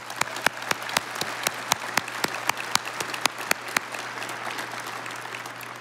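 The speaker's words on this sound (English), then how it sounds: "Let's give them a round of applause." Audience clapping at an alumni awards ceremony, a steady crowd applause with distinct sharp claps standing out in a regular rhythm, fairly close and continuing throughout without speech.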